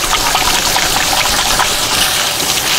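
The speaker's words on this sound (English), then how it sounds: "Hang on, let me wash my hands." Hands are washed under a steadily gushing kitchen tap, the running water loud, close and continuous throughout, with no voices.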